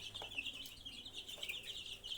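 High, rapid cheeping of newly incubated naked-neck chicks, continuous and fairly close, with a faint low hum underneath.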